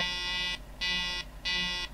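Truck horn in Euro Truck Simulator 2 blaring three times in a regular rhythm, bright buzzing tonal blasts over a low steady engine drone, with no talking.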